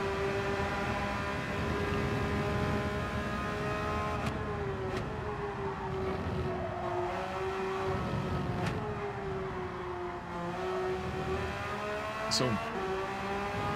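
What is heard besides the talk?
race car engine winding down in Gran Turismo 7 video game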